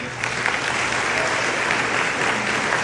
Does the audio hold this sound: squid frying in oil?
no